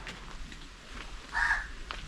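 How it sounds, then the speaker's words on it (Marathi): A crow caws once outdoors near a mango tree, a short fairly clear call over a breezy background with faint rustling. "कावळा ओरडतोय तिथे."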